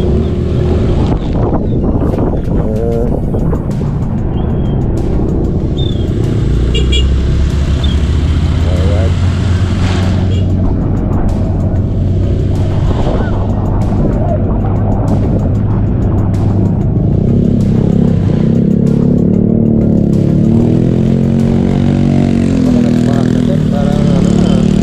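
Street traffic rumbles steadily and loudly, with engines droning and wind buffeting the microphone throughout, while a voice speaks briefly over the continuous noise.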